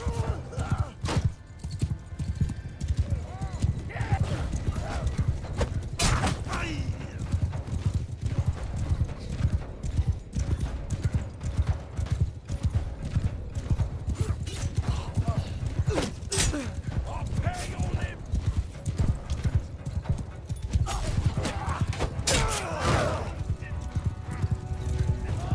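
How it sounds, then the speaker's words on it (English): Steppe horses in the Bannerlord video game gallop with a steady, rapid clip-clop of hooves, close and continuous, with occasional neighs and a faint creak over a battle din. "Yeah, I like these step horses."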